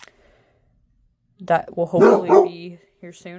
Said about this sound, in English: He is barking.